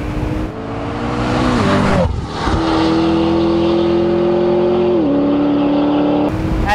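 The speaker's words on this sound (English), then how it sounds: "This car, if anything, lost a little bit of the exhaust note because of the bigger turbos" Gemballa McLaren GT Spider with upgraded bigger turbos accelerates hard, its engine and exhaust note climbing through gears with brief dips at shifts, loud and close throughout.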